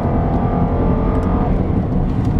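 Supercharged 5.0 Jaguar XKR X150 engine on a paddle downshift into second gear, giving a steady, smooth, fairly loud drone with no voices over it.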